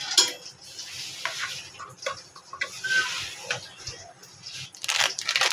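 Pomfret pieces mixed with chili powder, green chilies and salt in a bowl produce close, irregular wet squelches and light clicks and knocks against the bowl's sides, coming in uneven bursts.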